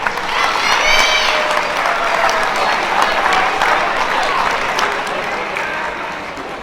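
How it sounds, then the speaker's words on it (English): Crowd applause at a high school underclass awards ceremony, a steady wash of clapping from a sizable audience, with faint voices calling out over it. "give a round of applause"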